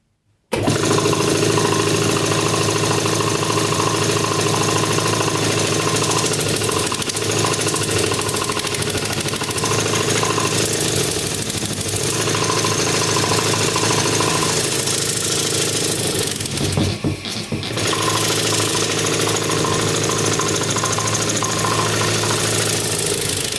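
A restored compressor engine runs steadily under power after reassembly, a loud, close, continuous mechanical chugging with rhythmic knocking and clatter throughout.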